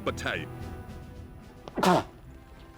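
A soldier in the war strategy game Battalion Wars lets out a short, sharp sneeze near the end, heard amid brief game voice dialogue and low background tones.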